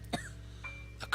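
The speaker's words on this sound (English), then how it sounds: "coughing racks my body" A person coughs in short, sharp bursts, several separate coughs spaced through a quiet moment, close and fairly soft.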